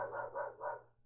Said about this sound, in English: The dogs are all saying hi.